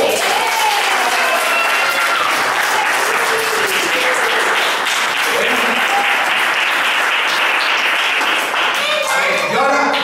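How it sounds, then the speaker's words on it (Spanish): Loud, sustained applause from a crowd of children at a kamishibai storytelling session, a dense steady wash of clapping filling the whole stretch with some voices mixed in. "¡Fuerte aplauso!"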